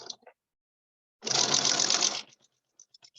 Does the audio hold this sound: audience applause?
no